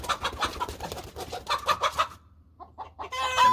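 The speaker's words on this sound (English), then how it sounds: "I'm going to try to do this over here without my chickens going crazy because they're now getting all loud and crazy" Backyard chickens clucking loudly and excitedly near a 100-gallon cattle water trough, a close, busy run of rapid clucks with a brief pause before they pick up again.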